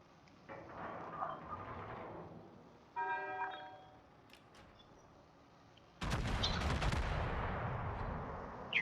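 Battleship main guns fire in a naval video game, a few sharp distant booms with rumbling tails, the last salvo loud and sustained with a heavy low roar, spaced by quieter gaps with faint chirps.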